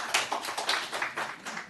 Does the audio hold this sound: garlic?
no